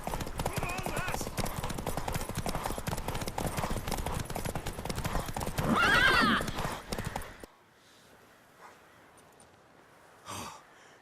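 Horse hooves clip-clop rapidly alongside a whinny and snorting in The Witcher 3: Wild Hunt, with voices over the action, then a quieter stretch with a brief snort.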